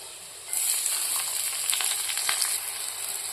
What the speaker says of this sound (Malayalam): എണ്ണ ഒഴിച്ചു. ഇഞ്ചി വെള്ളുള്ളി ഇട്ടു,